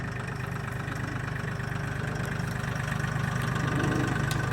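A tractor engine idles at low throttle, a steady rumbling drone with an even rapid pulse, close and constant throughout with no talk.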